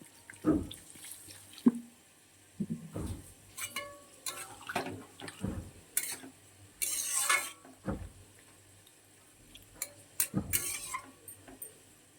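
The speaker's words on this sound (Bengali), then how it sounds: "এবারে জল দিয়ে দিচ্ছি।" Water poured into a pan of cooking pumpkin greens, heard as splashing bursts and stirring clatters close by, separated by quiet gaps, with no talking.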